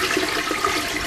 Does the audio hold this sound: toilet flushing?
yes